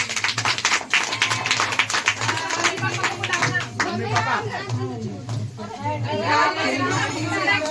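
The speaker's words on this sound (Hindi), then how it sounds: "ताली बजा दो" An audience claps at a religious gathering at Duttani Dwarka Dham, scattered handclaps mixed with chatter as people talk over it.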